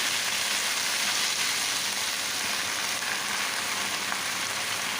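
Jute leaves hit hot oil in a pan, producing a dense, even crackling sizzle that sounds almost like steady rain, close and continuous with no talking.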